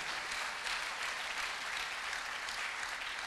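A church congregation at a Sunday service in Chapelle des Vainqueurs, Brazzaville, claps in a steady, dense wash of applause, fairly soft and distant, with no speech over it.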